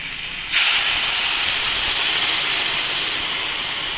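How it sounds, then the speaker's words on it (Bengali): Water hits a hot pan of fried corn, chicken and tomato with a sudden loud steaming hiss that bursts up and then holds as a steady, close sizzle with no talking. "জল ঢেলে দিলাম"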